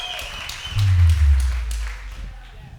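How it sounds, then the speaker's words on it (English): A church congregation claps hands together, a burst of applause rising after a moment of speech and fading out over a couple of seconds, with a voice talking over it. "Can we clap hands for the-"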